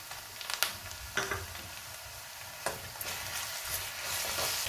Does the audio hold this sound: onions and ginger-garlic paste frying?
yes